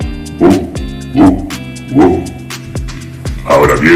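A person imitating a dog with a voice, giving about five loud, evenly spaced woof-like barks close up, each short and punchy, alone without other talk.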